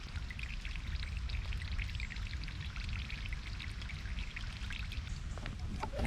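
Water poured into a Millbank bag while camping under a poncho shelter during Storm Ciarán makes a steady trickling splash over a low, rumbling outdoor background.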